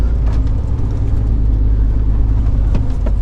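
Bell dump truck pulling out of a quarry, heard as a loud, steady low engine rumble from the cab with a continuous drone and a few faint knocks and rattles.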